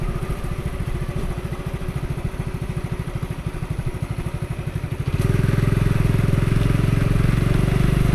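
Steady motorcycle engine drone while riding along village roads, a close, continuous mid-pitched hum with rhythmic pulsing that grows louder and thicker about halfway through as the ride picks up.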